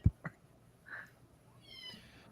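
A house cat gives a faint, short meow against a low background hum, preceded by a couple of soft thumps nearby and followed by a quieter drawn-out cry.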